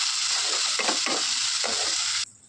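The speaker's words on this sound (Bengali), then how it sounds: "আমি সব মশলা দিয়ে দিয়েছি ভালো করে কষিয়ে নেবো" Spices stir-fry in a pan for a pabda fish curry, a bright continuous sizzle broken by a few scraping stirs, close and loud before cutting off abruptly near the end.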